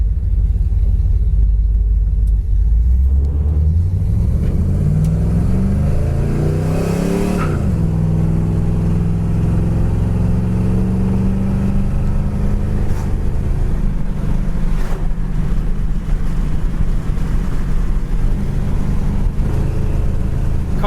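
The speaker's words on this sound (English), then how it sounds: "Car really runs and drives great down the road" A 1972 Chevelle SS cruises down the road with a loud, steady engine rumble heard from inside the car. The pitch rises and falls as it accelerates and shifts, and there is no talking.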